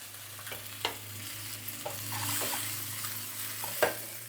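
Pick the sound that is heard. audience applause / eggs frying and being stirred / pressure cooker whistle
eggs frying and being stirred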